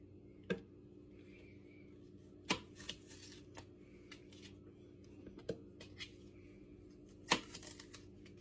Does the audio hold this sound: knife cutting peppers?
yes